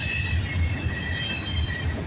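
A southbound CSX mixed freight train rolls past with a string of tank cars, heard close and loud as a steady rumble of wheels on rails with faint metallic squeal.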